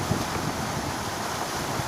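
Fast-flowing water of the Chi River in Roi Et, Thailand, a steady broadband rush and roar that holds evenly for the whole two seconds, with no voices over it.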